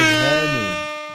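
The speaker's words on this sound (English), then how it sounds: "Air horns for the homie." Air horn sound effect blasting once, loud and close, its stacked harmonics sliding in pitch before fading out over about a second.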